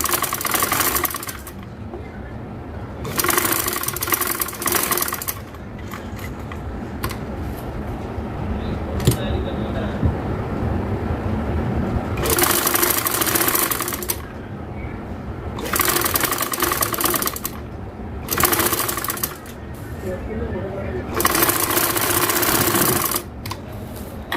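Domestic sewing machine stitching a garment neckline, in loud bursts of rapid mechanical whirring that start and stop several times, with quieter handling noise in the gaps.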